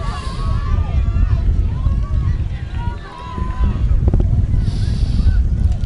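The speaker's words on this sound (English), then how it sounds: "Probably hear the wind rustling behind us here." Strong wind blows across an outdoor field during an amateur league football championship game, rumbling steadily against the microphone while people talk nearby throughout.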